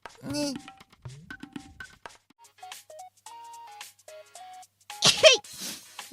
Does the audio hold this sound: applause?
no